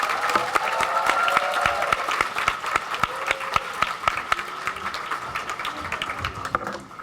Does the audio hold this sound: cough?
no